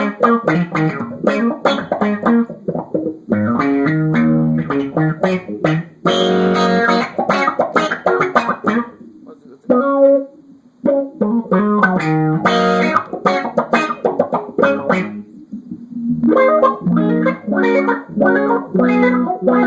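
Electric guitar played through a filter pedal, strummed chords and single notes with a swept, vowel-like tone, loud and continuous with brief pauses.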